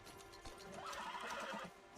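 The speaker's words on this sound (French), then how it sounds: "Sauf que là, il a un cheval au lieu d'avoir une voiture." A horse in GTA 6 leaked footage whinnies loudly over the clatter of its hooves, with the neigh rising midway and the steady clip-clop continuing throughout.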